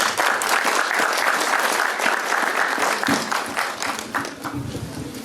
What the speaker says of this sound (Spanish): La recibimos con un fuerte voto de aplausos.